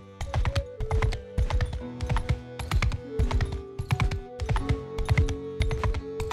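Rhythmic horse hooves clip-clopping in a steady trotting pattern in the video game Mount & Blade II: Bannerlord, crisp and close, with sharp repeated strikes and no other sounds.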